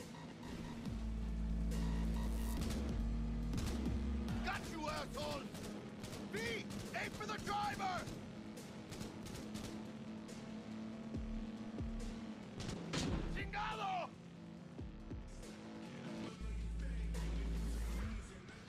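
Rapid gunfire in Cyberpunk 2077, shooting at the tyres of cars, with bursts of shots mixed with crashes and engine noise while someone talks over the action throughout.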